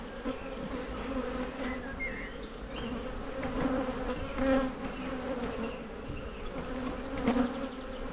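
Dense, continuous buzzing of many honeybees up close at an open hive, droning steadily with a few louder swells as individual bees pass nearby.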